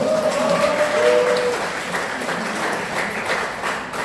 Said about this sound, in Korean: 다시 한번 박수해 부탁합니다.